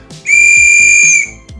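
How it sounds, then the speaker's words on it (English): A novelty whistle blown hard gives one loud, piercing tone that holds steady for about a second, then cuts off, with faint background sounds before and after. "So I assume I blow into here, and the exiting wind just makes the whistle sound."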